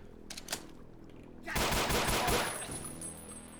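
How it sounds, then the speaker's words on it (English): Rapid automatic gunfire from the video game Ashes 2063 shooting down enemies, a few isolated shots followed by a sustained burst of fast repeated shots that trails off. "So we'll just gun some of them down now."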